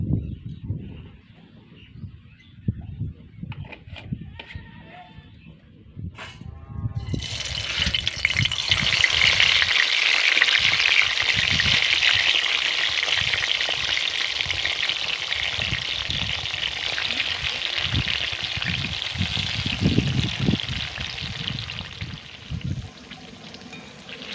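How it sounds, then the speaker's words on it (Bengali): Pointed gourd (potol) fries in oil in a wok: quiet clatter and stirring first, then a loud, sustained close sizzle that swells after a few seconds, with scraping stirs throughout and no voices. "পটলগুলোকে খুব সুন্দর করে উল্টে পাল্টে লালচে করে ভেজে নেব"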